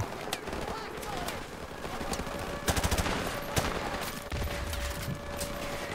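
Rapid gunfire bursts from Call of Duty Modern Warfare Remastered, steady automatic fire with sharper shot clusters near the middle, set under continuous game ambience with a voice talking over it.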